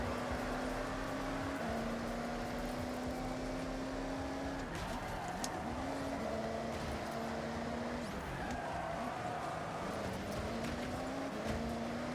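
Engine drone of a large 4x4 racing in the Forza Horizon video game, a steady continuous roar with rising and falling pitch as gears shift, loud and close throughout.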